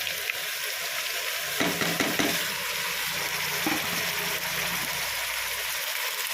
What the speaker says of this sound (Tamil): இது எல்லாத்தையும் போட்டு நல்லா வதக்கிக்கலாம்.